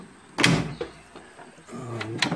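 A workshop drawer holding drills, reamers and lathe tooling slides open and shut, giving a few quiet rumbling glides with sharp knocks and clicks at the start and end.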